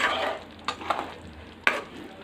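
Stuffed brinjal curry, masala gutti vankaya, stirred gently in a pan, a spoon scraping in a few short strokes over a soft steady sizzle of oil, close and quiet.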